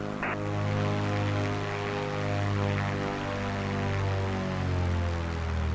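Propeller plane engine taxiing in a flight video game, a steady droning hum with rising and falling tones as the throttle shifts, loud and continuous without any voices.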